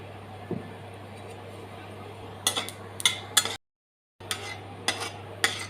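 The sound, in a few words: cumin seeds tempered in hot mustard oil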